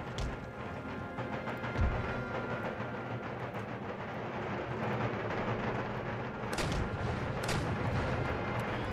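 Howitzer artillery in an Empire: Total War battle booms in repeated heavy, low thuds over a constant rumbling battlefield din, loud and continuous, with scattered sharper reports.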